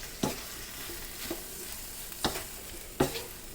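Pork and Thai basil stir-frying in a hot pan, a steady close sizzle punctuated by four sharp spatula scrapes and knocks, with no talking.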